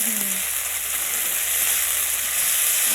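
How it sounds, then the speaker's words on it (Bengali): Chopped onions fry in a pan for a rohu fish chorchori, giving a steady, close, loud sizzle with no voices. "পেঁয়াজটা দিয়ে ভাজা ভাজা করে নিলে না চচ্চড়িটা ভালো হয়"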